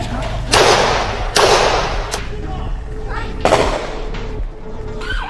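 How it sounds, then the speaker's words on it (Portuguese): Several sharp gunshot-like cracks ring out at irregular intervals, loud and close, each followed by a brief echoing tail over a noisy background. "Correria e, de repente, tiros."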